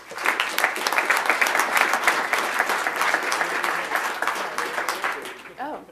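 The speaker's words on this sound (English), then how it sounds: "give them a round of applause as they come on up" Loud, sustained applause from an audience at a Kansas City 1 Million Cups startup pitch event, dense clapping filling nearly six seconds before fading out at the end.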